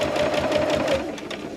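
A sewing machine stitches down fabric binding, a steady fast mechanical whirr with rapid needle clatter, loud and close, slowing slightly near the end.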